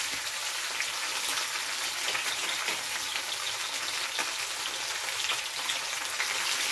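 Snapper fish deep-frying in a pot of hot oil for Jamaican-style crispy fried snapper, a dense, steady close crackling sizzle without pause.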